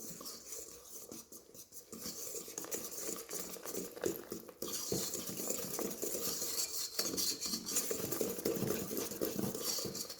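Muffin batter with chocolate chips and a packet of baking powder is stirred in a bowl, giving quiet, steady scraping and clinking of a utensil against the sides with no talking.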